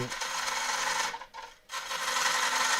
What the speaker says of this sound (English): these cuts with the 3/8 gouge are much nicer to take